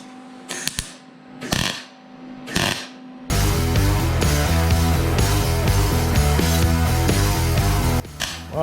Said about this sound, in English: While he's welding that up,